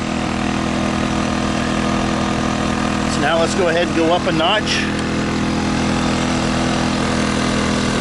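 A Sportsman GEN1000i portable inverter generator runs steadily with a constant droning hum, and someone speaks briefly over it partway through.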